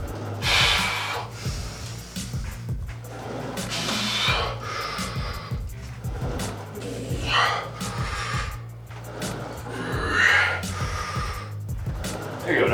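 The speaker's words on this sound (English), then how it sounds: "Deep breath." Deep breathing during a shoulder stretch exercise: slow, audible inhales and exhales repeating close to the microphone, mixed with a man's speech and gasps.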